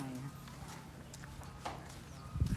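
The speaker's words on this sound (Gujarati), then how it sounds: "અહીંયા ઘોડાઓ છે" Horses at a rural cow shelter, with soft hoof clops and shuffling footsteps close by at low volume, and a heavier thud near the end, under quiet talk and ambient farmyard noise.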